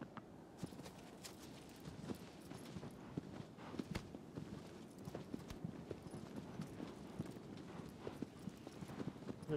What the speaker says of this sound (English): Go, horsey, go.